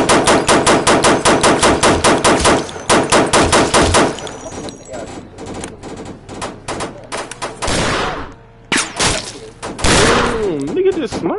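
AR rifle with a binary trigger firing in rapid bursts outdoors, loud repeated shots in a fast steady rhythm for several seconds, then scattered single cracks with voices talking between them.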